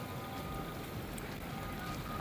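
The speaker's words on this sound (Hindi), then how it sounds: "बारिश जारी है, बारिश लगी हुई है, तूफ़ानी बारिश लगी हुई है।" Heavy, stormy rain pours steadily at an outdoor protest gathering in D Chowk, heard as a faint, continuous wash of broadband hiss with no clear voices over it.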